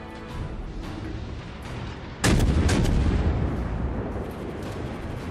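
Heavy naval gunfire from the cruiser Cleveland in World of Warships, one loud broadband boom that rolls out into a sustained rumble over continuous low battle noise, with no speech.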